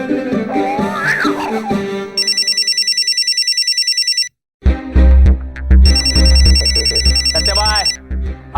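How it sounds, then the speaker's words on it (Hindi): Telephone ringing in two bursts of a bright electronic trill, first after a short stretch of voice, then again over loud low music and voices, close and prominent. "भाभी का फोन आ रहा है।"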